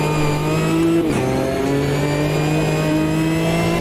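A GT4 race car in the Automobilista 2 racing game at Indy Road accelerates down a straight in a slipstream, its engine holding a loud, steady, rising whine with a brief gear shift near the start.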